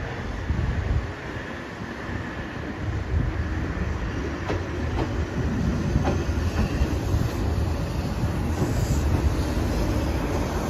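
Old Keihan electric train arriving at Ishiyamadera station in Otsu, a steady close rumble with faint rail clatter and wind noise throughout, no talking.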